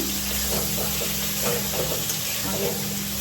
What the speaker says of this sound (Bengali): এখন পনির ভাজা শুরু করে দিয়েছি।